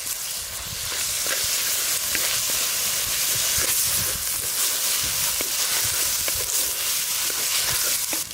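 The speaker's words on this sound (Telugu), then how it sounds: "ఈ ఉల్లిపాయలు కొంచెం కలర్ మారే వరకు బాగా వేయించుకుందాం" Onions with ginger garlic paste fry in a pan, making a loud, continuous close-up sizzle and hiss with faint stirring clicks.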